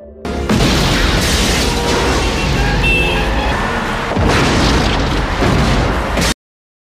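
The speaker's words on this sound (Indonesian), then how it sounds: "tiba-tiba saja terjadi ledakan" Huge, continuous blasts of an explosion tearing through several buildings in a disaster film scene, a dense roaring rumble that stays loud for about six seconds, surging again near the end before cutting off abruptly.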